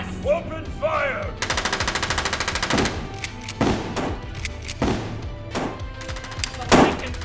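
Film gunfire during a fight with a werewolf-like creature: a rapid automatic burst followed by several heavy single shots and impacts, loud and close, with shouting voices at the start and a loud final blast.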